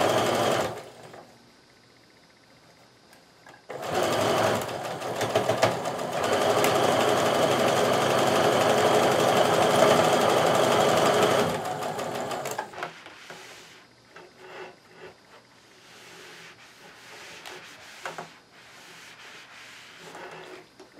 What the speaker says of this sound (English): Bring it over to the sewing machine and we're going to sew again.